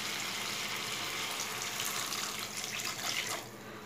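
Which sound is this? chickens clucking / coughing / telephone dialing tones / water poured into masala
water poured into masala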